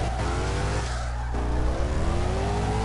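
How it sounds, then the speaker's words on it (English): A drift car in CarX Drift Racing Online holds a big angle, its engine and exhaust roaring loud and continuous with rising revs and tire squeal throughout. "Listen to that beautiful engine, that beautiful exhaust just roaring out of there"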